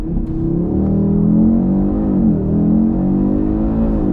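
A 2022 Audi RS3 with torque split launches at full power, its engine note loud and close, pitch climbing steadily as it accelerates hard with a deep, continuous growl.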